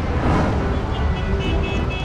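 Busy city road traffic, a dense steady roar of cars and motor vehicles close by, continuous and loud throughout.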